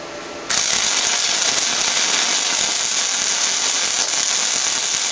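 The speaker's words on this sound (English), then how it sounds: "I think you can see right off that it's welding a lot hotter." A VEVOR MIG 250 welder runs a MIG weld with inductance set to maximum, giving a loud, steady, dense crackling hiss that starts abruptly and continues evenly.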